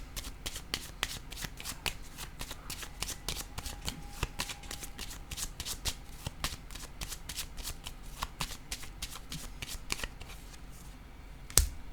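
Playing cards shuffled by hand at close range, a long run of crisp rapid riffles and snapping flicks repeating steadily, ending in a sharper final tap, with no talk.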